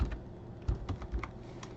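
Soft, quick keyboard taps click in an irregular burst, close and quiet, with no voices.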